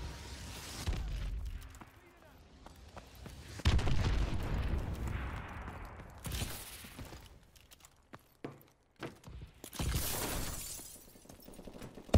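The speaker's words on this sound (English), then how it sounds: "Enemy missile strikes incoming." Missile strike explosions in the Call of Duty: Advanced Warfare video game, several loud booming blasts and shattering bursts at irregular intervals, with quieter stretches of game noise between them.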